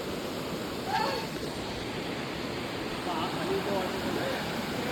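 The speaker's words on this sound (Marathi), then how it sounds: "एकदम छोटीशी नदी" A small river near a waterfall in Badlapur flows with a steady broadband rush, moderately loud and even, with faint distant voices briefly over it.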